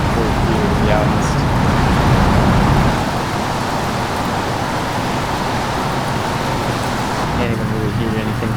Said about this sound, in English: Can't even really hear anything from the car, it's just all rain